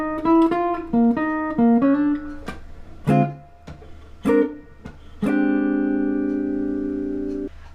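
Jazz blues lick on a clean-toned instrument with chromatic motion, a run of distinct plucked notes followed by a sustained ringing chord, played solo and close.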